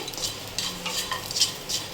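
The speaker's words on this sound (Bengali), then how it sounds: "আমি এবার এগুলো সমস্ত নাড়তে থাকবো একটু ভাজা ভাজা হয়ে গেলে" Chilli and garlic being stirred in a pan over low gas for a kharkol leaf paste, with soft scraping strokes and faint sizzling repeating close by, no voices.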